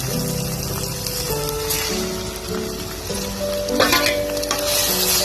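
A batani chaat mixture of peas and tomato sizzles and frys in a pan while being stirred, with a steady crackling hiss and occasional scraping clinks of the spoon; a faint tonal hum runs underneath.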